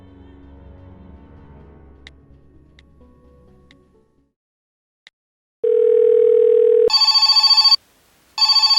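A telephone places an outgoing call in a detective video game: a steady dial tone comes in first, then loud electronic ringing bursts follow with a brief gap between them, all without speech.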